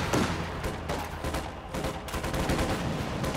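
Gunfire hitting a squad in the video game Company of Heroes 2: rapid overlapping rifle and machine-gun bursts with booming impacts, a continuous loud battle din with no pause.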